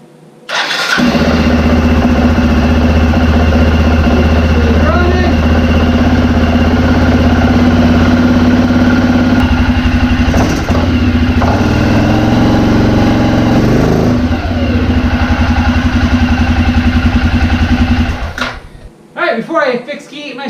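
A rebuilt 2006 Arctic Cat 400 ATV engine cranks, catches and settles into a loud, steady idle that runs close up for about eighteen seconds before cutting off.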